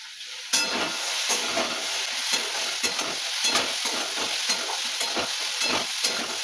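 Mixed vegetable chorchori of potato, taro, okra, ridge gourd, pointed gourd, cauliflower and Malabar spinach stems sizzles loudly in a pan, with repeated scraping stirs breaking through the steady frying hiss.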